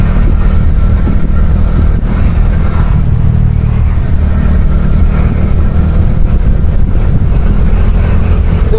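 Steady engine drone and road rumble from a motorcycle fitted with big tires, riding along the Kottayam bypass; a continuous, fairly loud noise with no talking.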